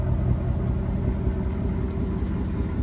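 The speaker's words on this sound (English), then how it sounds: "Nice active exhaust system." A 2019 Ford Mustang GT Premium convertible with an active exhaust, a steady deep low rumble close by, continuous throughout.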